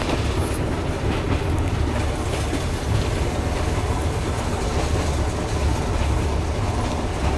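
A night passenger train in Myanmar rumbles steadily along the rails, a constant close, loud clatter and roar with faint rhythmic clicks and no voices.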